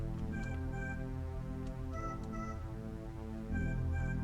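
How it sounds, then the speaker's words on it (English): A cat meows a few times in a horror story video game, the cries rising briefly over a steady, droning tonal backdrop that runs throughout. "if that's the cat right there ahead of you,"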